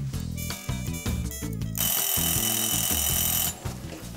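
A loud, shrill electronic alarm rings continuously for a couple of seconds amid clattering background noise, then cuts off abruptly.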